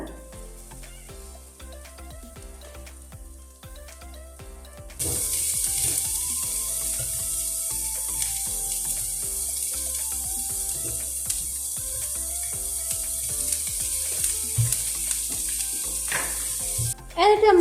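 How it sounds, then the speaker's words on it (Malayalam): Chopped onions sautéing in hot coconut oil in a home kitchen, a steady close sizzle that jumps louder after a quiet start and runs on with stirring scrapes and clinks. "സവോളയും കൂടെ നല്ലപോലെ ഒന്ന് വഴറ്റി ഒന്ന് മൂപ്പിച്ചെടുക്കണം കേട്ടോ"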